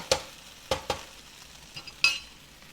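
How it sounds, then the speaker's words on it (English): Okra frying in a pan while being stirred, with a few sharp scrapes and clinks of the utensil against the pan over a faint sizzle, close by and intermittent. "The okra takes turning and stirring about every minute"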